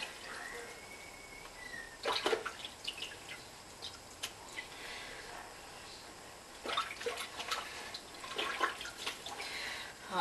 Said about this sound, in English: So just give them a little bit of a rinse.